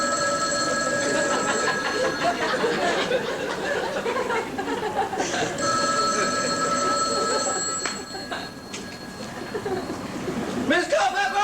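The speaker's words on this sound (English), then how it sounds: "The telephone's ringing!" An old-style bell telephone rings on stage during a high school senior class play, in sustained trilling bursts with brief pauses, fairly loud over a hall's reverberant background hum.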